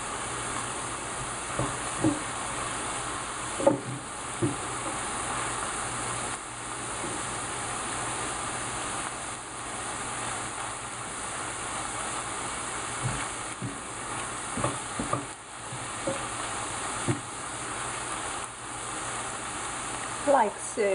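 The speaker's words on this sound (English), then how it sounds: "So we're going to brown our meat a little." Ground meat browns in a pan for a pasta meat sauce, giving a steady, close hiss of sizzling with scattered small pops and scraping clicks throughout.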